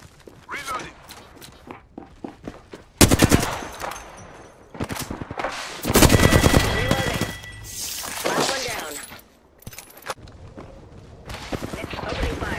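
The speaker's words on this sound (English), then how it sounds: "Opening fire." Bursts of rapid automatic gunfire in Apex Legends crackle in loud clusters between quieter stretches of footsteps and game sounds, with sharp single shots scattered through.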